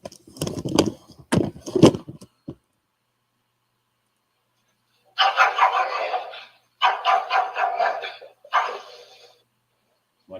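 A puppy in a played video barks in several bursts at mid distance. These come after a stretch of speech and a pause, and the pup is sitting in a corner.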